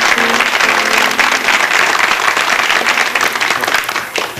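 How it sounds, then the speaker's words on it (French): An audience at a 1979 Canadian evening variety show in St-Paul de Montminy claps loudly and steadily, tapering off near the end, with brief talk at the start. "On va les applaudir."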